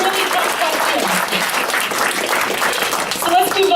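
Sustained audience clapping at a political candidates' event, a thick, even roar of many hands that stays loud throughout, with a slight swell near the end.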